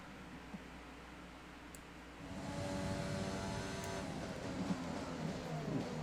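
An F1 car engine in the F1 2020 racing game during a qualifying lap in Canada: a quiet hum that jumps to a sustained high-revving engine whine with gear-shift changes, alone without talk.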